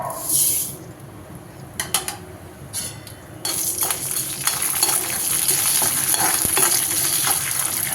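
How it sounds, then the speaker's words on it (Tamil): Black urad dal roasting in hot oil in a kadai, a dense crackling fry with metal stirring clinks and scrapes, quieter at first and then a loud continuous sizzle. "எண்ணெய் காஞ்சிடுச்சு இப்போ வந்து நம்ம உளுந்தை வந்து பொன்னரெல்லாம் வறுத்து எடுத்துக்கலாம்"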